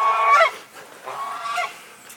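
A goose honks in two loud, nasal bursts, the second a little softer and more drawn out, with no talking over it.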